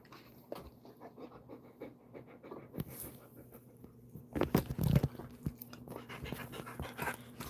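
A dog pants in rapid, steady breaths, quite close and fairly quiet, with a louder burst of movement and rustling midway.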